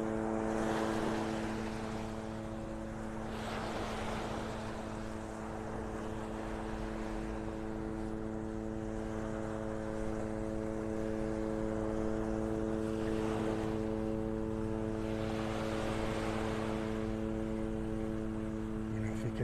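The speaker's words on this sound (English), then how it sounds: "Chopper's coming down the beach towards me." A helicopter flies low along the shoreline of Vanderbilt Beach in North Naples, Florida, its steady droning rotor hum sustained and fairly loud throughout, passing with slight swells over constant surf and outdoor wind.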